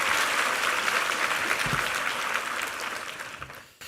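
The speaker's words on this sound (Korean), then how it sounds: "우리 한번 격려의 박수 한번 부탁합니다." A church congregation breaks into sustained, dense applause at a Sunday worship service, loud and steady at first, then thinning and fading out near the end.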